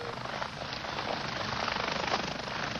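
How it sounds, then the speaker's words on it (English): University Air Care medical helicopter, a steady broadband rotor and engine roar with a faint rhythmic beat, moderately loud and unaccompanied by speech. "Alex was taken to the nearest open field, where he was met by a University Air Care helicopter."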